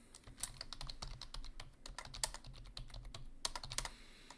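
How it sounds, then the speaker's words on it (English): Quick, uneven clatter of keys on a computer keyboard, close and fairly quiet, with bursts of rapid taps and short pauses and no speech. "I know I'm typing to you, Chaston."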